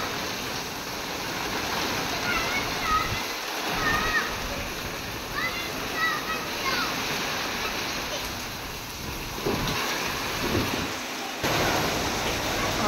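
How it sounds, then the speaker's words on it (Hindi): Steady, dense hiss of heavy rainfall with splashing water close by, continuing throughout with brief low thumps. "बारिश बहुत ज़ोर से हो रही है"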